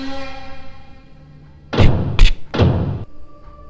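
Three heavy, loud knocks on a door sound close by in quick succession as a horror story sound effect, over a low background drone.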